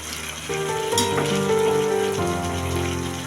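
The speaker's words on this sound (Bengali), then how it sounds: "এবার আমি বাঁধাকপিটা দিয়ে দেবো" Par-boiled cabbage tipped into a pan of frying potato, tomato and spice mix, raising a loud, steady sizzle with a sharp burst as it lands, over faint background music, with no talking.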